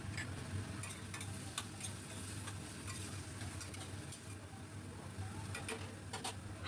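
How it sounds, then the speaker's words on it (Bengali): Chopped tomato stir-fried in a pan for a prawn curry with taro and potato, a steady close sizzle under continuous scraping stir strokes and light ticking clinks, with no talking. "খুব ভালো করে কষাবো।"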